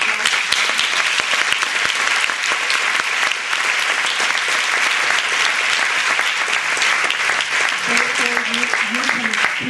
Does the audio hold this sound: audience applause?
yes